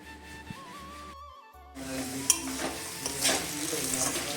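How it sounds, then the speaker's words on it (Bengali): Chopped potatoes hitting hot white oil with black cumin and green chilli in a wok, a steady loud sizzle with scattered stirring scrapes after a quieter start with faint background music. "এবারে কুচানো আলুগুলো আগে ভেজে নেব হালকা করে"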